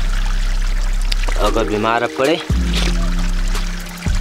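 Cold glacier water pours steadily along the Hemkund Sahib trek, a constant close rushing flow under someone talking throughout.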